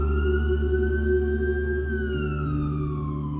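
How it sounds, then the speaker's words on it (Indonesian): An ambulance siren wails loudly and close, with steady sustained tones that slowly bend in pitch, alone with no talk over it. "Teman apartemennya calling ambulance dan bawa Hizkia di ambulans"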